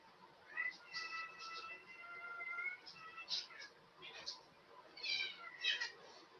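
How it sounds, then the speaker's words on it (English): Cats meowing indoors, several short high mews and squeaky cries repeating irregularly at moderate distance, fairly faint, as though chasing each other, with a quiet background hum. "With meowing."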